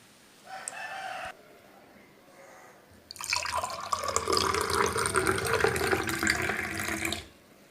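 Water is poured into a mixer jar while making wheatgrass juice, giving a brief splash followed by a louder, sustained gushing pour of several seconds that stops abruptly, close by and with no voices.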